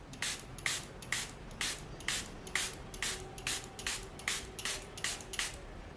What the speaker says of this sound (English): Spray some rose water onto the board.